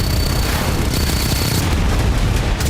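Bombs dropped by Chinese Sukhoi-30 fighter jets explode over the sea in a dense, continuous roar of blasts that fills the whole stretch at full loudness.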